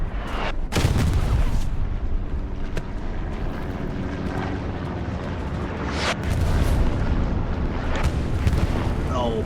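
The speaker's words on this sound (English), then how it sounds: "Big bombing run by 9PZ here." Bombing run explosions in the Hell Let Loose video game on Omaha Beach, several heavy booms and blasts at irregular intervals over a rumbling aircraft and battle backdrop.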